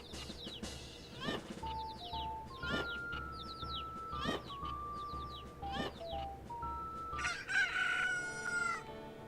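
Several roosters in the video game Majora's Mask crow repeatedly over one another, their cock-a-doodle-doo calls rising and falling in overlapping bursts along with game music tones, with no talking.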